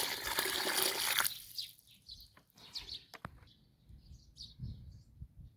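Water poured by hand into a deep planting hole with a shovelful of humus, set for a gooseberry cutting in a garden: a brief close splash and trickle, followed by quieter dribbling with birds chirping outdoors.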